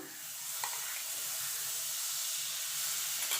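Butter dropped into a hot kadai sizzles with a steady, bright hiss that swells slightly after a soft onset and keeps frying evenly close by, with no voices over it.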